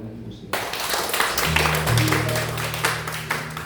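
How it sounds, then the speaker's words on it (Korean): A church congregation at a Korean Sunday worship service claps in encouragement, scattered hand claps rising after a brief quiet start and continuing unevenly beneath a voice and a low sustained tone. "잘 지나고 격려의 박수를 한번 해주겠습니다"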